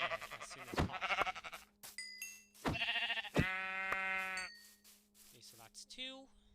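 Sheep bleat in a video game, several wavering calls one after another, fairly clear and close, with a person talking between and over them.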